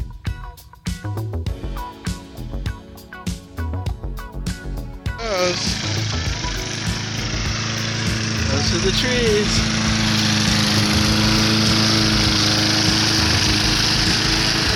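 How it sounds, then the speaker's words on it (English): A used push lawn mower, picked up from the trash and repaired, sputters and then catches after its primer is pumped, settling into a loud, steady engine drone. A person speaks briefly before it starts. "This is what a 14-year-old should be doing, mowing the lawn."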